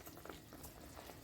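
Fish curry liquid bubbling at a steady rolling boil in a cooking pot, a dense continuous burble of small pops heard close and alone.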